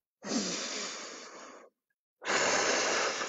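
Two long, slow exhalations through the nose or mouth during a plank exercise, breathy and close, separated by a brief pause.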